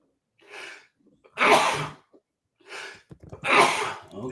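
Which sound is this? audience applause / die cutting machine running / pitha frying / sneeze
sneeze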